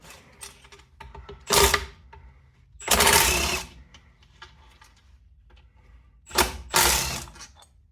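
Ratchet backing out the input shaft cover bolts on an 87 4WD Toyota Tercel during an engine swap: three loud, close bursts of rapid clicking separated by quiet stretches with small clinks.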